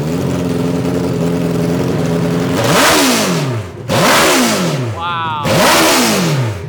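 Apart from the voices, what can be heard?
Hayabusa-engine-swapped mini truck revving loudly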